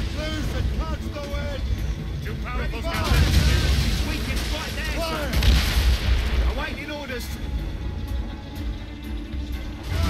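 Ship cannons firing a broadside in the video game Assassin's Creed Rogue, heavy rumbling booms over churning sea and wind noise, loud and sustained, with voices shouting orders.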